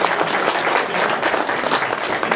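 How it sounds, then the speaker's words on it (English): A room full of people claps in steady, dense applause that fills the whole moment, loud and close, with no pause or voice rising above it. "Give him a round of applause"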